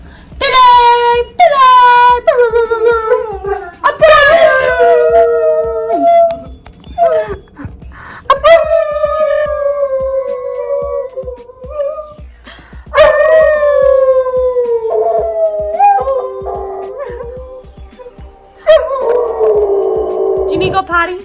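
A pet dog named Billy howls in long rising and falling wails, several drawn-out howls close to the mic, with a person talking over and between them.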